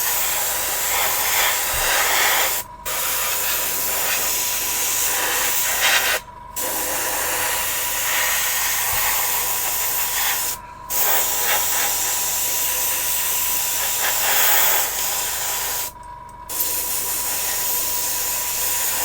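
An airbrush sprays thinned grey base paint onto a resin model kit, making a loud, steady close hiss broken by four brief pauses as the trigger is released.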